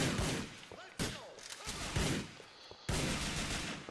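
Gunshots from an enemy firing down from above in GTA 4: sharp cracks come in repeated clusters, a few loud single shots among rattling bursts, with a player voice over them at times.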